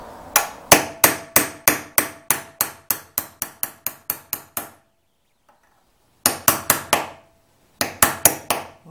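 Rapid hammer strikes drive a nail point into wood for a homemade wooden compass, a steady run of sharp close taps, then a pause and two shorter bursts of blows.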